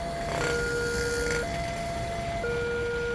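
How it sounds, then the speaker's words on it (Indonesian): A two-tone railway crossing warning siren alternates between a high and low pitch in slow steps over a constant road rumble. "kalau udah mendengarkan sirene berbunyi, harusnya berhenti"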